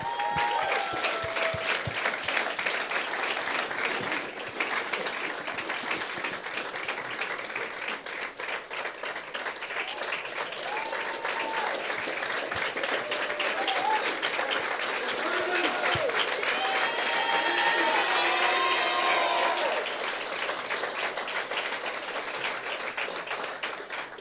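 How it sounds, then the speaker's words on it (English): Long, sustained applause from the audience at the 2023 Tewaaraton Award ceremony, a lacrosse awards event, with steady dense clapping throughout and faint voices and cheers mixed in toward the middle. "we can ask the audience to give you guys one more huge round of applause"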